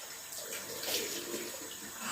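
Water runs from a tap with a steady, hissing flow, switched over to cold. It continues alone at moderate loudness before a sudden louder burst at the end.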